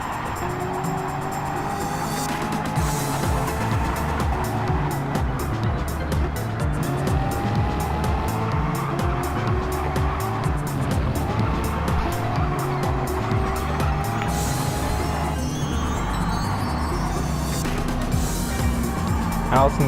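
Race cars roaring around the track on the final lap of a racing video game, engines revving and shifting with occasional tire squeal, a commentator talking over them.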